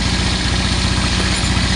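A Motorstar motorcycle engine with low compression idles steadily up close, its uneven low putter loud and continuous without any talk.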